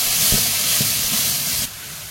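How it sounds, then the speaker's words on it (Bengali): A spice paste of salt, turmeric, chili, cumin and coriander powders frying and being stirred in a pan: a loud, steady sizzling hiss close up that drops off abruptly near the end, with no voices. "মশলাটাকে একটু নেড়ে করে একটু ভেজে"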